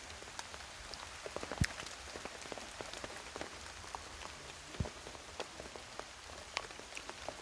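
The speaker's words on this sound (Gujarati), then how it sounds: "સારો એવો વરસે" Steady rain falls outdoors, a soft even hiss broken by scattered sharper drops pattering on a surface, with no voices.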